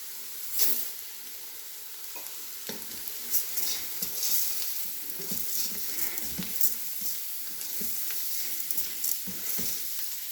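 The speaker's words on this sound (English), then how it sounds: "Go ahead and add that rice." Dry rice tipped into a hot Instant Pot and stirred for sundried tomato risotto, giving a steady close sizzle broken by scraping spoon strokes and soft clatter, with no voices.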